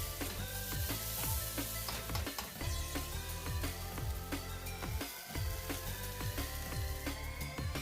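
Mushroom, carrots and egg yolks stir-fried in lard over high heat with crab fried rice, giving a steady loud sizzle broken by repeated scraping and clanking strokes of a wok spatula.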